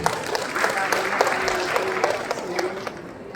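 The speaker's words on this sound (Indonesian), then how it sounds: "Tepuk tangan untuk kita semua." Audience applause at a morning education event for prospective teachers, a steady wash of clapping from a seated crowd lasting about three seconds, moderately loud and close, with a voice briefly audible over it.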